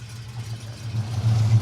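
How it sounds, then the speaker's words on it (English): A Jensen car's V8 engine running at idle with a low, rumbling burble that swells slightly louder toward the end. "Duncan fires up the V8 and what a burble, what a noise"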